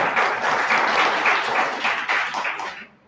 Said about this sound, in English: Now is your turn to clap